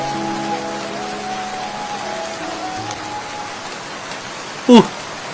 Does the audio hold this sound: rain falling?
yes